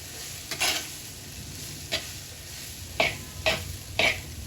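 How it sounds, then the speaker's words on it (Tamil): Cut long beans being sautéed in a pan, a steady background sizzle punctuated by five distinct scraping stirs, the last three close together. "நல்லா வதக்கிக்கோங்க"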